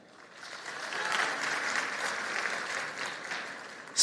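A forum audience applauds in response to a show-of-hands question, rising from quiet to a moderate, sustained patter of clapping at a distance before cutting off sharply.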